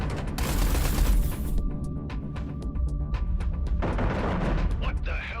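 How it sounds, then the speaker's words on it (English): Artillery fire on a carrier in the space combat game Everspace 2, sounding as a dense, continuous barrage of rapid booming shots and crackling impacts, loud and steady throughout, with a brief electronic warble near the end. "Eduardo, concentrate artillery fire on Blakemore's carrier"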